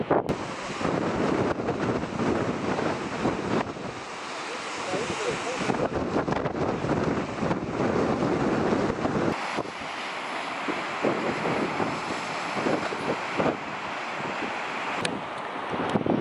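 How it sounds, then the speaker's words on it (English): Strong wind on Banzai Cliff, Saipan, buffets the microphone in loud, continuous gusts, with a rushing roar underneath that rises and falls throughout. "It is extremely windy up here."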